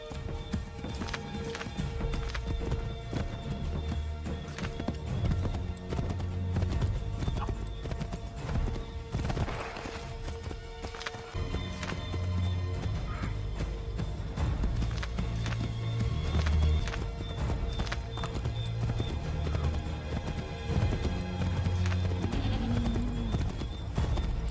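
Horse hooves galloping in Assassin's Creed 3: a fast, steady clip-clop rhythm runs throughout with occasional whinnies, layered over game music and ambient noise.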